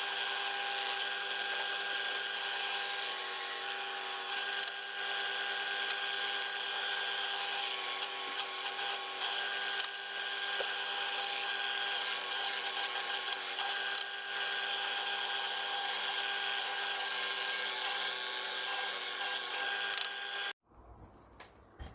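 A power drill bores holes into scaffolding board wood, a continuous whirring drone held steady for around twenty seconds before stopping abruptly near the end, with no talking.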